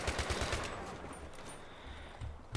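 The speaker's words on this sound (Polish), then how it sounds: "ten feeling strzelania w tej grze to jest poezja po prostu" Rapid automatic gunfire in the video game Battlefield 3, with fast bursts of sharp shots early on and another short burst near the end, heard fairly quietly.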